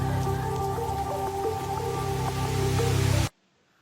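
Steady rain hiss blended into the backing of a song, running under sustained keyboard tones and music at a constant level before cutting off abruptly near the end.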